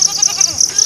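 A goat bleats repeatedly on a Nepali family vegetable farm, five short, bright, evenly spaced calls close by with a faint outdoor background.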